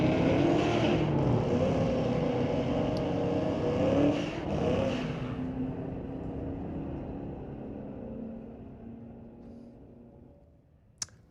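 A 2023 Dodge Challenger and a 2007 Corvette roar down a street-legal drag strip at Mission Raceway Park, loud engines revving hard then fading into the distance as the cars pull away, ending with a sharp click.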